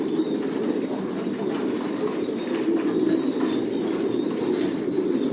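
Racing pigeons of the Johnson line cooing in a loft, a steady, close chorus of soft, low coos and murmurs with occasional wing rustles, no talking.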